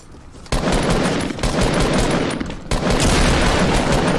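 Sustained automatic gunfire from Fortnite, loud and dense, with a dense rapid burst starting after a brief pause and continuing almost without break, with a sharp renewed volley near the end.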